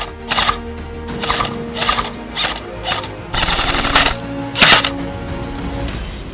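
An airsoft gun shoots at a player in short bursts of rapid plastic clicks, then fires one longer full-auto stream, with mechanical rattling close by and game noise in the background.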